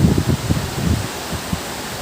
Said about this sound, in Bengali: অনেক জোরে বৃষ্টি হচ্ছে, বাতাস হচ্ছে